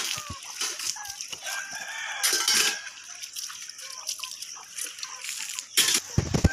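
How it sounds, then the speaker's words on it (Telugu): Chickens and a rooster in a home courtyard, with bursts of clucking and squawking scattered through the clip and a couple of louder fowl calls standing out over steady outdoor background noise. "కోడి కోడి"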